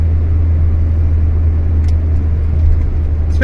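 An Austin Allegro drives along twisty, technical roads with knackered brakes, its engine a steady, loud low rumble with road and cabin noise and no speech.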